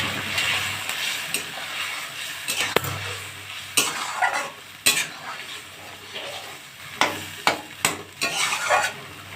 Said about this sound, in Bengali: এবার এই যে তরকারিটাকে আমি দিয়ে দিচ্ছি।